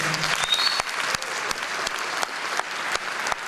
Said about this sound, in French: j'aimerais que vous accueilliez en les applaudissant chaleureusement nos deux directeurs